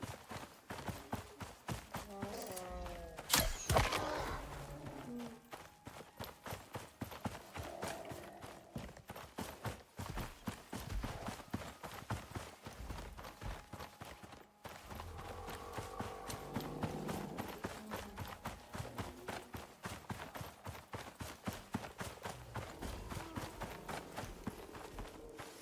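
Horse hooves in the survival video game Icarus, a steady rapid clip-clop rhythm of a ridden horse running across the whole stretch, with brief louder effect sounds mixed in.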